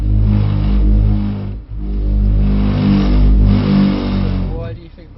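Mercedes-AMG C63 S engine on a track, loud and near, holding steady throttle, dipping briefly, then rising again before easing off, with people talking over it.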